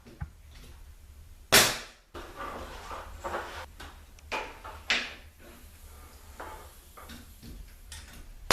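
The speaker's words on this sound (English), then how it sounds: "I'm nailing my first 4 arcs onto the center hub" An 18-gauge pin nailer driving 1.5-inch pin nails through wooden arcs into the centre hub of a dome ceiling frame, giving one sharp close snap followed by quieter scattered taps and knocks in a quiet room.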